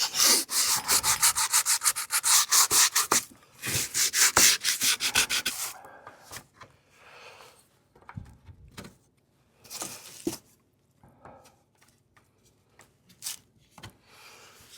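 Painted scrap wood scuffed by hand, a dense run of brisk rubbing strokes for about six seconds, then sparser, softer scrapes and short rubs, close and alone.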